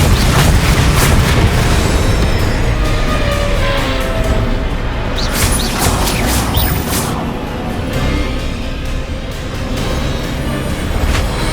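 Blasting-spell explosions in Hogwarts Legacy, a loud, continuous wall of booms and crashing rumble with a few sharper bursts partway through, close and unrelenting, no talking heard.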